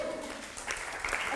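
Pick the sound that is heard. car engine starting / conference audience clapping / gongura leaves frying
conference audience clapping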